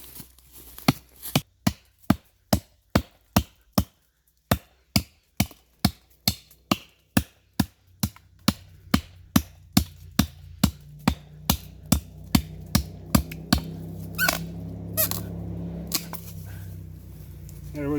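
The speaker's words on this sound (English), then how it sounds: "So much easier to do the chop with this knife than with the Kukri." A heavy bushcraft knife chopping into wood, striking in a steady series of sharp, loud, close cracks about twice per second with one brief pause, the impacts growing slightly duller near the end.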